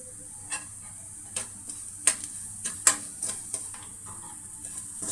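Potatoes being stirred and sautéed in a pan for a spicy mirchi vada filling, with a faint background sizzle broken by irregular scraping clicks of a spoon against the pan.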